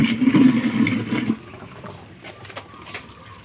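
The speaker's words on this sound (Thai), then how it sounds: "อ่าน้ำไหลทิ้งปกตินะครับ" An LG WF-T1056TD washing machine, repaired for a faulty drain motor, drains water: a loud gushing rush for about a second and a half, then a quieter trickle with faint clicks.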